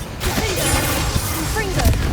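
Bombarda blasting spell explosion in the Hogwarts Legacy video game: a couple of sharp, close blasts with crackling debris over busy game background noise.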